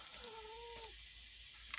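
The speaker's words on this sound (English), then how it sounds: "If you do hear something, that's my cat." A pet cat gives a short meow, a thin rising-and-falling tonal call lasting under a second, close but soft against quiet room background.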